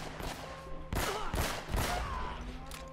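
Gunfire in Uncharted: Drake's Fortune Remastered, sharp bursts of shots starting about a second in and repeating through the rest, close and loud over steady game background.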